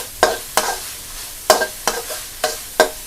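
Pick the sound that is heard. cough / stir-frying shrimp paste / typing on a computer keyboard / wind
stir-frying shrimp paste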